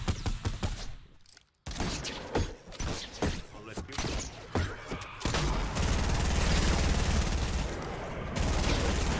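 Loud, dense gunfire in Fortnite during a zombie fight, with repeated shots and bursts up close, then a sustained wall of rapid fire.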